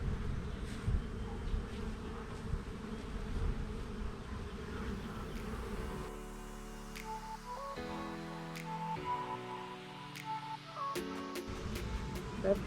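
Honeybees hum around an opened hive of overwintered queens, a dense, steady buzzing swarm heard close up throughout, with a few brief knocks and clicks of hive handling.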